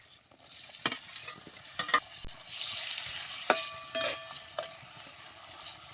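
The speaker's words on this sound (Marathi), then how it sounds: "ते टमाटो बी तेलात चांगलं भाजून घ्यायचा" Chopped tomato and onion sizzle in oil in a pot on a wood-fired stove for potato curry, a steady hiss with sharp spoon clicks and scrapes at irregular intervals.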